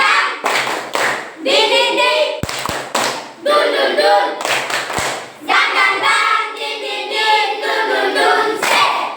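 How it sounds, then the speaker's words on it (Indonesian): A fourth-grade class chants together in unison, punctuated by a handful of sharp, rhythmic hand claps that cut through the voices. "Tepuk tangan"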